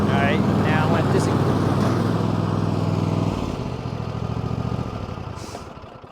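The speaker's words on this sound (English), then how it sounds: "when you have the engine running and the mower deck on" A Craftsman T240 lawn tractor engine running close by with the mower deck on, a loud steady rumbling drone that drops in pitch and level partway through and keeps fading toward the end.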